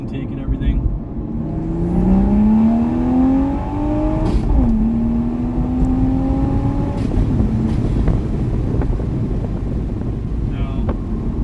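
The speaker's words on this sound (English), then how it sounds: "A little second gear here, maybe you guys can hear the intake and everything." A 2023 manual Toyota Supra pulling hard in second gear, its engine and intake note climbing steadily in pitch, easing briefly at the shift, then rising again, heard from inside the cabin under road and wind rumble.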